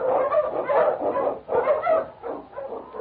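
King, a swift and strong Eskimo sled lead dog in the Yukon, lets out a run of close, yelping barks and whimpering yips, about five bursts in quick, uneven succession.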